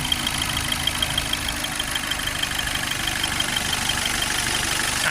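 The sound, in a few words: Audi A3 1.6 engine started and idling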